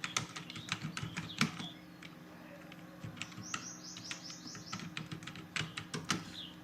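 Someone types on a computer keyboard while working in MS Word, with scattered sharp key clicks at an uneven rhythm. Bird chirps sound in the background and a faint tone hums underneath.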